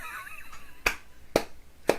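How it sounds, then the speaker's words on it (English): Three sharp hand claps ring out about half a second apart, loud and close, with a quieter stretch of faint background sound before them. "I have to clap on that one."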